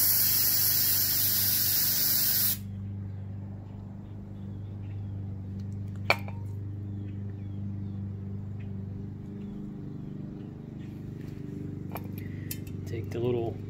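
A short, loud hiss of aerosol cleaner is sprayed onto a dirt bike carburetor jet, then cuts off abruptly, leaving a low hum with a couple of faint metallic clicks and taps.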